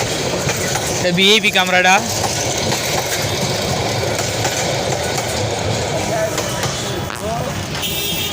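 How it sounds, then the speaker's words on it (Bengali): A train passes nearby with a continuous heavy rumble and rail noise, a horn-like tonal blast sounding briefly near the start, while a person speaks briefly over it. "এই যে ওই সময় মোটামুটি ট্রেন দেখা যায়।"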